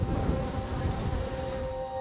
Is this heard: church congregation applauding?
no